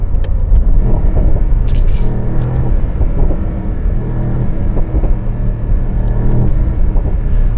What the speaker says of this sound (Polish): Układ wydechowy w tym samochodzie jest niesamowity.